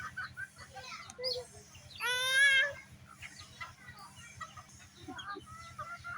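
Desi chickens from a home flock clucking and squawking while one is caught, with a loud rising distressed cackle in the middle over softer clucks and handling noise.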